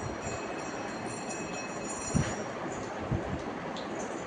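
A toy train running with a continuous low rattling rumble and faint whirring, plus a couple of small clunks, heard close up.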